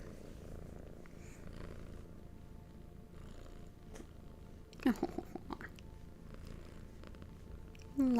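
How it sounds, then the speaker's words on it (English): Cats purr softly and steadily up close in a quiet room. A few brief rustles and a short voice can be heard near the end. "Lots of purrs."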